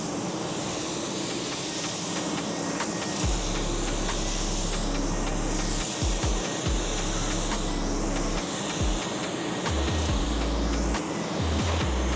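Spray gun applying Glasurit 100 Line waterborne base paint to a car hood in a paint booth: a continuous loud airy hiss with brief breaks between passes, no talk.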